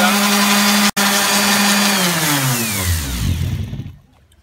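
A power sander sanding a Paralam wood beam whines at high pitch, cuts out for an instant, then winds down and falls silent with a descending pitch.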